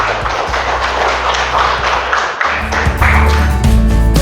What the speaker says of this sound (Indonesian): kita berikan aplaus dulu untuk semua